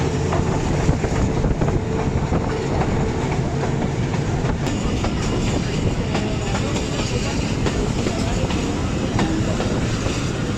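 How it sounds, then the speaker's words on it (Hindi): Passenger train crossing green farmland between Narowal and Sialkot, approaching Kila Sobha Singh, with a steady loud rumble and rattle of carriages, faint clickety-clack of wheels running continuously throughout. "ट्रेन किला सोबा सिंह पर अप्रोच कर रही है"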